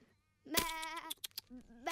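Sheep bleat in an animated pastoral scene, a loud wavering cry followed by shorter bleats and broken calls from the flock, close and clear.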